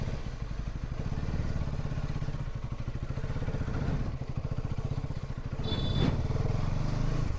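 A KTM Duke gen 3 motorcycle is ridden with a steady, close engine drone and rapid pulsing beat that holds throughout, with a brief clattering burst near the end.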